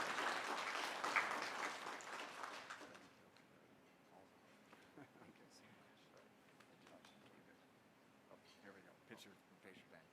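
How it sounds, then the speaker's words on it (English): An audience at a board of directors meeting claps loudly for about three seconds, then the applause dies down to a few scattered claps and light room noise. "So let's give a round of applause for Scott Moore."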